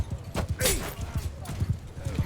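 A horse gallops with quick, rhythmic hoofbeats in the medieval combat game Mount & Blade II Bannerlord, with battle noise and a brief whinny-like squeal, while a voice talks over it.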